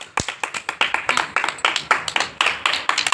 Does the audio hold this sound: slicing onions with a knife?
no